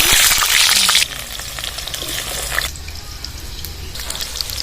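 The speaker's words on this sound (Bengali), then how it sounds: "গরম হয়ে গেছে আলুগুলো ছেড়ে দিচ্ছি" Potatoes dropped into hot oil in a home kitchen, cooking for an egg and jackfruit dish, give a loud, steady frying sizzle with crackles and drips that settles to a softer hiss.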